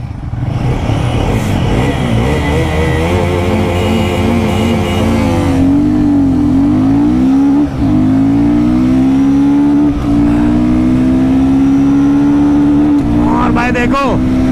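A Royal Enfield Guerrilla 450 motorcycle accelerates hard in a drag race against a Bajaj NS400Z, the loud close engine climbing in pitch through gear changes with wind roar throughout.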